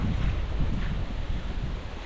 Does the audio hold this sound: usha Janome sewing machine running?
no